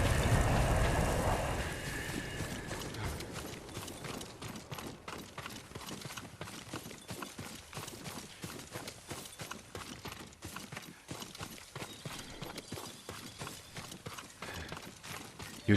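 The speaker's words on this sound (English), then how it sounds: "Yuriko's horse." Horse hooves clip-clop in Ghost of Tsushima, a steady walking rhythm of sharp hoof strikes that begins after a brief louder burst of sound and continues fairly faintly for the rest of the clip.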